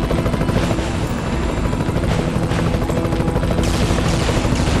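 A helicopter from the Iron Man video game drones with a continuous thick rotor roar and a dense chopping rumble that stays steady and fairly close for several seconds, with no talking.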